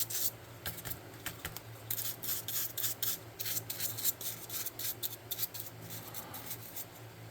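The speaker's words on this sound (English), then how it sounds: "I'm just going to paint this quickly." Bristly brush strokes of paint worked over a stone statue head, a quiet run of soft rubbing and scratchy dabs repeating irregularly, close up with no talking.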